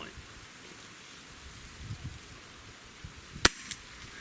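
A Chiappa Rhino 50DS pellet revolver fires a single 7.9 grain pellet, heard as one sharp, fairly close crack with a fainter click shortly after, against a quiet background.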